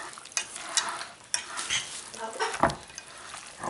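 Carne asada cooking in a pan is stirred, a low sizzle under repeated scraping and clinking strokes of the utensil against the pan, close and uneven, with no talking.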